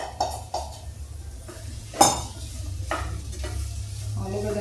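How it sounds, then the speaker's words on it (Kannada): Boiled potatoes drop into a frying pan and get stirred while making sabudana khichdi, with a light sizzle, spoon scrapes and a sharp clink of a utensil against the pan midway. No one speaks. "ಕುದಿಸ್ಕೊಂಡಿರೋಂಥ ಆಲೂಗಡ್ಡೆ ಹಾಕ್ಕೊಳ್ತೀನಿ."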